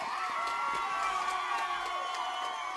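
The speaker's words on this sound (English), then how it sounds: "there's a big cheer from the Strasburg side" Home fans on the Strasburg side of a high school football game between Eaton and Strasburg cheer from the stands, a broad, sustained crowd roar with whoops, while an announcer keeps talking over it.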